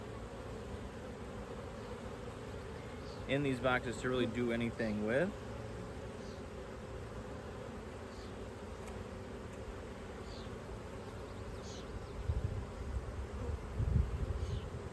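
Honey bees hum steadily around open hive boxes, a close, continuous buzz while someone talks briefly over it.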